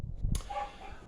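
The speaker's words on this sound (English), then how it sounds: "you can hear the dogs" A dog barks in a residential neighborhood, one short sharp bark near the middle, fairly close and moderately loud over a quiet background.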